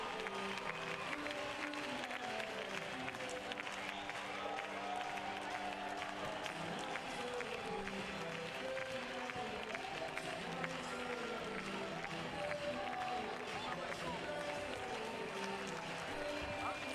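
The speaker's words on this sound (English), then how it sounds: "The gold and silver medal winning teams exit the Carioca arena to cheers and singing" Crowd in the Carioca arena cheering and singing at a Paralympic wheelchair fencing event as the gold and silver medal teams leave, a steady dense wash of voices and applause lasting throughout.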